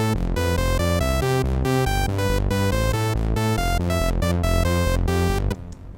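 An initialized synthesizer preset plays a lead line over a pulsing bass line, with rapid rhythmic notes in a dense, bright, buzzy tone, loud and steady, before cutting off abruptly near the end.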